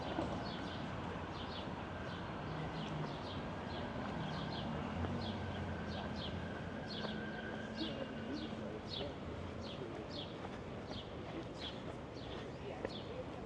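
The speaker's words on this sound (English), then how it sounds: "just listen to the birds and the trees in the area" Birds chirp repeatedly in trees along a city street near Park Street Church in Boston on a morning walk, small high calls over steady urban hum, with footsteps and light traffic noise.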